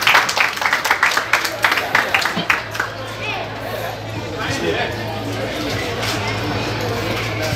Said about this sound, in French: maximum d'applaudissements pour lui, s'il vous plaît